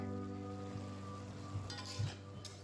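Ghevda flat beans cook in a pan over a medium flame, giving a soft, steady sizzle with a few brief stirring scrapes and clinks near the end.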